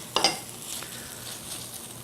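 Onion and bell pepper dropped into a hot pan for crawfish étouffée give a quick clatter, then a soft steady sizzle as they are stirred, close and fairly quiet.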